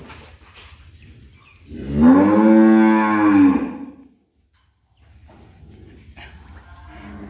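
A dairy cow gives one long, loud, close moo lasting about two seconds inside a cow shed at a government dairy farm in Faridpur, surrounded by quiet shed ambience.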